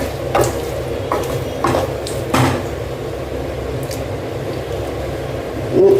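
Gooseberry pickle being stirred in a pan, giving a steady wet, squishing churn with a few louder scrapes and slops spread through, close and alone with no talk.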